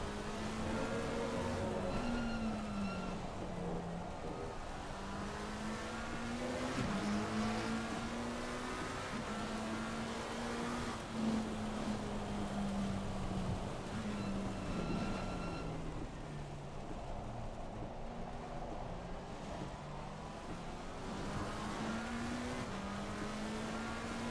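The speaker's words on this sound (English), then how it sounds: "As you can hear, not full throttle." A McLaren race car engine in a sim racing video game drones steadily below full throttle, its pitch rising and falling in long sweeps for the whole stretch, loud and continuous with no talk.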